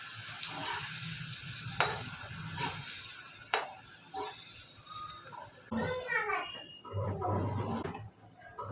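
Chapati pieces fry in hot oil as chapati wafers, a soft sizzling hiss that gives way to louder bubbling, with a voice and other speech heard over it.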